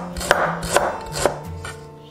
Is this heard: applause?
no